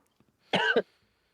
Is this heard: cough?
yes